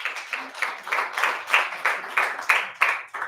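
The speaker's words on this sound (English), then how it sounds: "Let's start by giving him a warm round of applause." An audience claps for a speaker being welcomed onstage at an incubator program graduation party, with a steady, moderately close round of applause and rhythmic bursts throughout and no voices.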